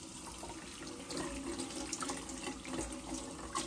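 Lukewarm water runs steadily from a tap while an espresso machine's drip tray and water tank are washed with a little soap, a close continuous splashing stream with no talk.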